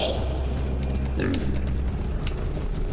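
A close, gruff snorting grunt from a creature in the video game War For The Overworld, pig-like and brief, over a humming background.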